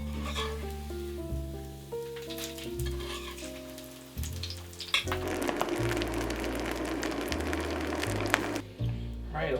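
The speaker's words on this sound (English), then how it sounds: "We have that nice sizzle happening." Food sizzles and crackles steadily in hot oil in a pan, the frying growing louder midway, with soft background music underneath.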